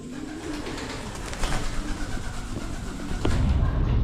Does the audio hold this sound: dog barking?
no